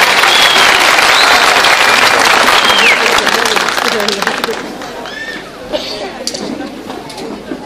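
A large audience at a town information meeting applauds loudly and steadily as the mayor is welcomed to the podium, the clapping thinning out toward the end amid crowd murmur.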